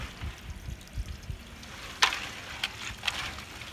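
A big Cajun crawfish boil pot stirred as it cools, water sloshing and swirling with a few sharper clanks and splashes, moderately close with no talk.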